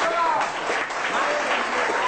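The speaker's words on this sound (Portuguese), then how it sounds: "todas elas na salva de palmas" A crowd claps at a morning gathering during a Carnaval camp, the dense applause steady throughout with voices mixed in underneath.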